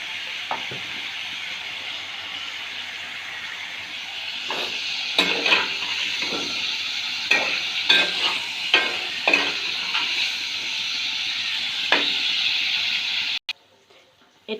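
Vegetables fry in a kadai wok with salt and turmeric, a continuous close sizzle broken by repeated scraping strokes of a spatula, before the sound cuts out abruptly near the end.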